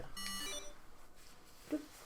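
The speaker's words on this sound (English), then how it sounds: "A beep?" A device beeps in the video game 999, a short bright electronic tone at the start followed by a faint blip moments later, alone against quiet room ambience.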